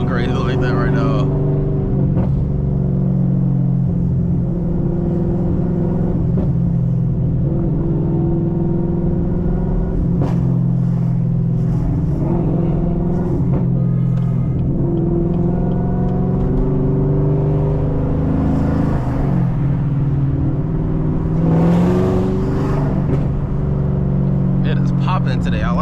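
Supercharged 850hp Camaro ZL1 driven in -2°F cold, its engine droning and revving in steady rising and falling pulls, with people talking over the noise inside the car.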